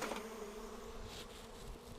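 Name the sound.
honey bees buzzing around an open hive during brood inspection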